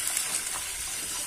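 Water pours steadily into a pan of sautéed onions while making Kanchipuram-style upma, a continuous close gush with no voices.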